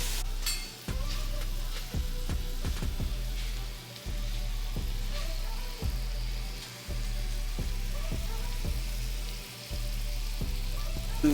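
Sautéed onions sizzling on a grill with butter, a steady close frying hiss broken by repeated sharp scrapes and taps of a spatula.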